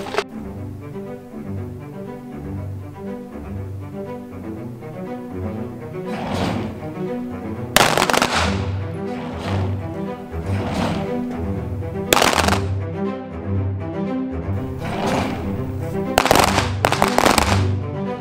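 Rifles fired in a ceremonial salvo at a Finnish ensign's day event, several loud outdoor volleys ringing out one after another, with quieter mechanical clatter of the weapons between the shots.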